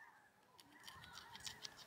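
A flock of geese passes overhead in spring above a large family's homestead, giving a run of honks, some near and some farther off, over a quiet outdoor background with no talking.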